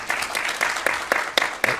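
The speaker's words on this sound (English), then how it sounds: "If we could just have a round of applause for all of the speakers" Applause for the speakers at a medical case competition session. Scattered claps from a small audience in a room, individual hand claps distinct and uneven in rhythm, moderately near.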